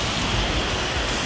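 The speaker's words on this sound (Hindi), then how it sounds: "बारिश हो रही है" Steady, dense morning rain in Delhi, a loud, even hiss that fills the whole short stretch with no pauses or other sounds.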